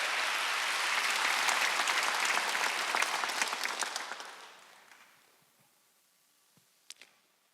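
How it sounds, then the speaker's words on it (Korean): A church congregation at a Korean Wednesday worship service applauds loudly and steadily, then the clapping fades out to a few scattered claps and quiet. "박수 하나 더 주세요"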